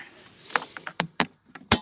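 Someone getting into a car on a cold night: a series of sharp clicks, clunks and light jingles from the door and keys, close and fairly quiet, with no talking.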